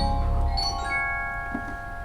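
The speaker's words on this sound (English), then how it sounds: "A vibraphone," A pipe organ's vibraphone percussion stop, sounding a real vibraphone: a few mellow, ringing metallic notes that hold and slowly fade, played alone at moderate loudness.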